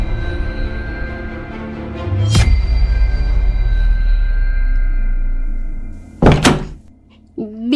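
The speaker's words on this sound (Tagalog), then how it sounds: "Bigla na lang nagsara ang pinto ng basement." Basement door slamming shut, with two sharp heavy bangs over a low rumbling drone and a fainter knock at the end, loud and near.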